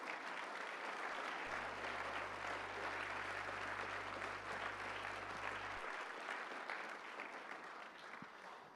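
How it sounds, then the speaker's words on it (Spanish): A church congregation at a Sunday family worship service breaks into loud, sustained applause of praise, a dense wash of clapping that holds steady and then thins slightly toward the end. "Dale un fuerte aplauso de alabanza para el Señor."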